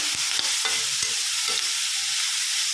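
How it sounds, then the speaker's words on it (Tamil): Beetroot sautés in a pan for a beetroot chutney, producing a constant hissing sizzle with several short spoon scrapes and knocks as it is stirred, close and without talk. "நல்லா இந்த அளவுக்கு வதக்கணும்"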